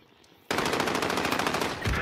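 Rapid automatic gunfire from the Modern Warfare video game erupts suddenly after a short quiet moment, then continues as a loud, dense stream of shots without pause.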